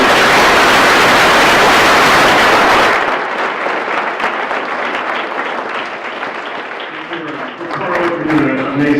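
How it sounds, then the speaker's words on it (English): Loud, dense applause from a business panel audience at a B2B marketing event in Phoenix fills the first three seconds, then thins into scattered clapping and crowd murmur, with a voice speaking toward the end. "we have a quick round of applause for all."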